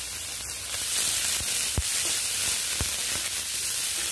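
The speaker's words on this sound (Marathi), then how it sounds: "आता त्यामध्ये एक चिरलेला कांदा घालते," Chopped onion and grated ginger fry in a hot pan with a steady, close sizzle. A few sharp crackles and clicks pop out above the continuous hiss.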